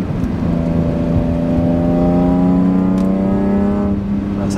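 A BMW M3 E46 Touring's exhaust with the valve open drones loud and close, holding steady around 4000 rpm before rising and falling slightly, with no talk over it.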